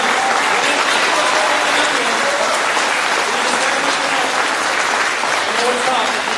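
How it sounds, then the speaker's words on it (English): Loud, continuous applause from a large audience at a high school graduation ceremony, dense steady clapping filling the whole stretch with faint crowd voices mixed in. "Applause."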